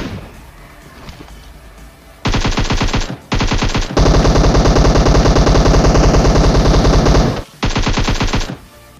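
Automatic gunfire in the PUBG Mobile video game comes in loud, rapid bursts, including one long continuous spray, close and dominant with brief gaps between strings of shots.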